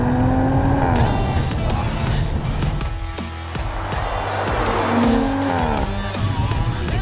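A new Audi RS 5 Coupé accelerates hard, close and loud, its engine note rising in two strong sweeps, with a brief lift between them.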